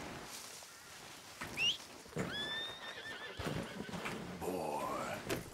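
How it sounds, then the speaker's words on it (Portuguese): A horse in Red Dead Redemption 2 gives a couple of sharp whinnies and snorts over a quiet outdoor backdrop, with soft hoof clip-clops and rustling between calls, close and fairly loud against the otherwise subdued scene. "Olha o cavalo preto e branco, meu nobre, tá aqui. A égua."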